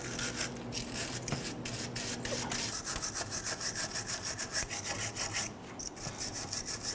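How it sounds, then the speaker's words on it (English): A wire brush scrubs the sway bar link brackets on a 2000-2006 Toyota Tundra, with close, rapid back-and-forth rasping strokes in an even rhythm and no talk. "we're going to use a wire brush and clean up both brackets here"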